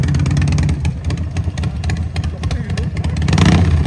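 A motorcycle engine rumbles low and steady near a Los Angeles farmers market, its throbbing idle rising slightly toward the end, with people chatting nearby.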